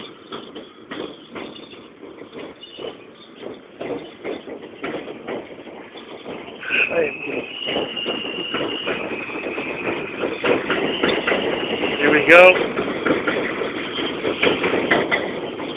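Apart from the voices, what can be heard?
eastbound J elevated subway train arriving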